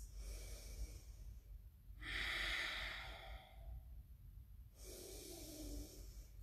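Forceful yoga breathing in a power flow class: two long, loud, rushing breaths, a sharp exhale and then another push, close and clear with no talking.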